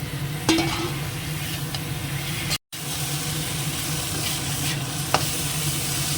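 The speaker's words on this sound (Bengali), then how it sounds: "মশলাটা ভালো করেই কষানো হয়ে গেছে যদিও এবার মাছটা দিয়ে দিই" Fish sizzles and fries steadily in a pan of well-sautéed spice paste, a constant hiss with a few sharp clicks of utensils, heard alone without talk.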